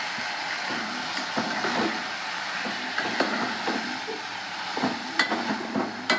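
Onion and tomato pieces, with curry leaves, frying in a pan, a steady close sizzle and hiss with scattered small pops and clinks, and no talk.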